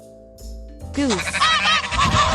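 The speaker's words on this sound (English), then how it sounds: "Goose." A farm goose honks loudly and close by, a couple of nasal, rising calls that quickly build into a noisy burst of overlapping honking.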